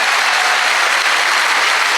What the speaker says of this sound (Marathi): एकदा जोरदार टाळ्या होत्या विचार मंचासाठी